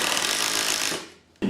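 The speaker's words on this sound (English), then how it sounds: "I'm going to start assembling it, so screwing it all together" A power driver runs a screw into a wooden media wall framework, a loud, buzzing whir for about a second that winds down, followed by a brief knock.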